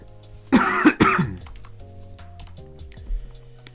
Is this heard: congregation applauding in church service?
no